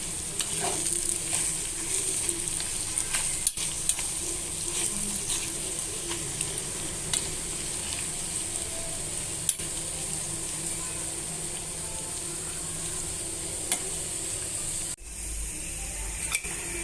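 Potatoes stirred into a sizzling hotel-style tempering in a pan, a steady loud fry hiss with scraping stir sounds running throughout, close and continuous.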